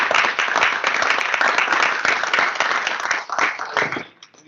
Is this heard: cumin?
no